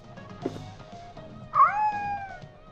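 A cat in the video game Order 13 meows, a single clear drawn-out cry rising then holding steady, heard up close over faint background sounds with no talking.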